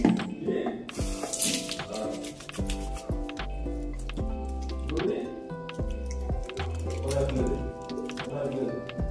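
Face being washed with a Beauty Life cleanser under a running tap, with steady water trickling and dripping alongside soft squishy rubbing, close and continuous, while someone talks over it.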